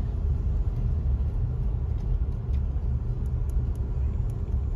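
Steady car engine and road rumble while driving past a full, busy parking lot at Earl Bales Park in Canada on a Sunday long weekend, continuous and fairly loud throughout.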